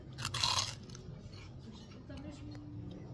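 Crisp Chinese shrimp chips made of rice flour, eaten at a restaurant in Loulé, Portugal, give one loud crunching bite up close. Softer chewing follows over a faint background murmur.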